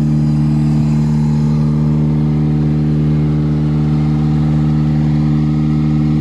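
A car engine with no hood runs buried under a pile of snow in early winter on a farm, a steady loud droning hum with a constant low tone throughout and no voices.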